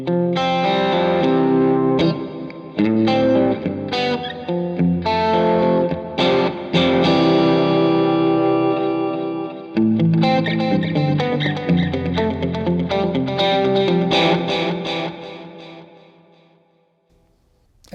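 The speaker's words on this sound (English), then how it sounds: "So let's turn on our overdrive pedal." Electric guitar played through a TC Electronic Plethora X5 pedalboard with overdrive, compressor and reverb engaged, giving driven, sustained chords and riffs with effects tails, fading out toward the end.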